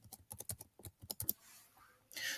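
Quick, light keystrokes on a computer keyboard enter an ID card number, a soft run of irregular clicks that stops and gives way to a faint rustle.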